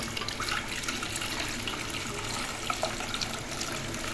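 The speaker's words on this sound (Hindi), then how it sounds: "यखनी को हम छान लेंगे एक अलहदा बर्तन में" Chicken stock is strained into a separate pot while making chicken pulao, giving a steady pouring and trickling of liquid that runs without a break, close by and moderately loud, with no talk.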